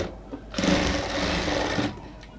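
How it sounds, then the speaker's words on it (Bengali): A sewing machine stitching a folded sleeve hem of a dress sewn from a sari, running in one steady whirring burst of about a second and a half between quieter pauses. "এটা যাতে দেখা না যায় ওই জন্য এটাকে আমরা ফোল্ডিং করে সেলাই করে নিচ্ছি।"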